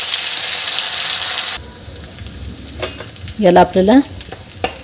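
Chili and garlic paste hitting hot oil with cumin in a pan, a loud hissing sizzle at first that drops to a softer fry, with brief speech and clinking stirs toward the end.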